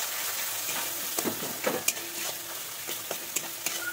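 Tomato spice masala with turmeric and salt fries in a pan, sizzling steadily while a spatula clinks and scrapes in irregular strokes close by.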